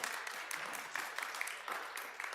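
A congregation at a pagan service claps together in a short, moderately faint burst, the hand claps dense and slightly uneven, with no one speaking over it.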